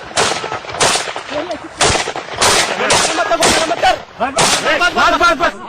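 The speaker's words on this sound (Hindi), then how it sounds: "और ये है वो जवान जो लगातार गोलियां बरसा रहे हैं।" Rapid bursts of rifle gunfire at a lone bear in a jungle, repeated shots cracking loudly in quick volleys with short pauses between, close and harsh.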